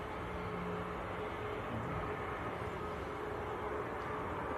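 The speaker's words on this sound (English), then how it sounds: "here comes Air Baltic operating for Swiss from Zurich, Airbus" An Air Baltic Airbus A220 airliner at Manchester Airport gives off a steady, unbroken jet roar that holds at one level throughout, with no voices over it.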